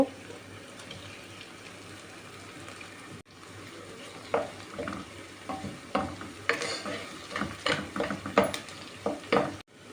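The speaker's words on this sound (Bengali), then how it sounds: "তেল গরম হয়ে গেছে পেঁয়াজ কুচি রসুন কুচি দিয়ে দেবো এখন" Chopped onion and garlic frying in hot oil for a pumpkin-leaf dish: a soft sizzle that becomes busier partway through, with irregular louder stirring clatters and scrapes close by, and no talking.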